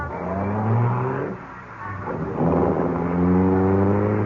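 A car engine in a radio mystery drama revs up and pulls away, loud and close, dipping briefly before surging again as it drives off.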